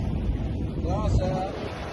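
Sailboat under motor with its sail raised in rough sea, giving a steady roar of wind and churning water throughout, with a brief tonal whine near the middle and a faint voice in the background.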